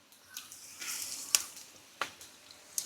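Onions with ginger-garlic paste frying in a pan for chicken dum biryani, giving a faint, steady sizzle broken by a few sharp crackles and spatters, with no talking.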